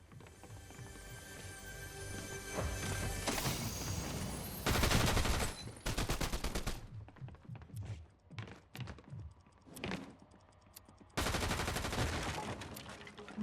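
Gunfire in the video game Fortnite comes as several sustained bursts of rapid shots, with scattered single cracks in between. It is loud and near, with a final long burst near the end.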